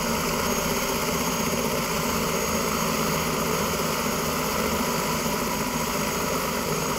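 A helicopter touches down on a lawn landing pad, its steady, loud engine and rotor drone filling the scene continuously without pause and with no voices over it.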